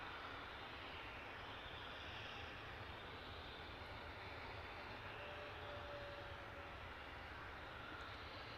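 A Ryanair airliner takes off at London Luton Airport, a steady broadband jet roar that holds at an even level throughout, distant and without voices.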